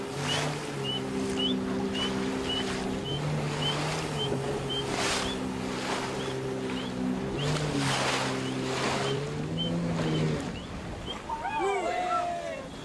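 A boat engine drones steadily over rushing wind and sea water on a dolphin-watching trip off the Swahili Coast, with faint high chirps scattered throughout and a flurry near the end.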